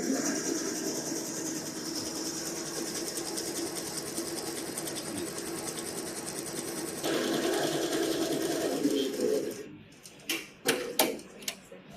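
An embroidery machine stitches a logo with a fast, steady mechanical whir and rapid ticking that goes on for several seconds, then winds down into a few separate clicks and knocks.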